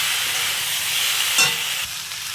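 Vegetables sauté in a hot pan for a Bengali rohu fish curry with jackfruit and drumsticks, a steady close sizzle with a brief stirring scrape midway.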